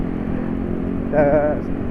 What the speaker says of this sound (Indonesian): Ketemu motor berisik lagi.